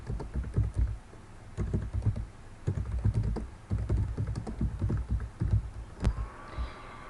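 Fingers type on a computer keyboard while writing a document in Google Docs, producing steady irregular clicks and key thumps in short bursts, close and fairly quiet, with no talking.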